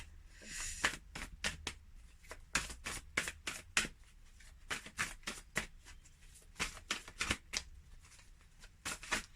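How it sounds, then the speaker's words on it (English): Rapid bursts of tarot cards riffling and snapping together, repeated in quick clusters at close range with brief pauses between shuffles. "going to go ahead and give it a little shuffle"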